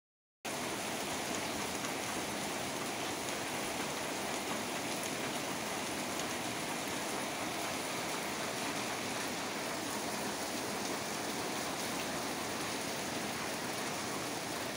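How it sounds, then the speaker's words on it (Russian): Rain falls over the town of Nikolaevsk-on-Amur in a continuous, even wash of broadband hiss that starts abruptly and stays constant throughout, with no talking. "С понедельника текущей недели, к радости тех, кому погода была не по нраву, город накрыл приходящий дождь."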